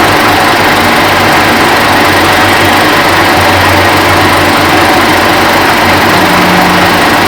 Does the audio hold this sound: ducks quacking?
no